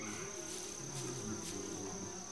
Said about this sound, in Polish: No właśnie, są muchy.